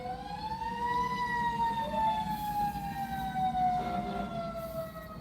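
A fire engine siren wails at moderate distance from a fire station across the street, its tone sweeping up and down over a low traffic rumble.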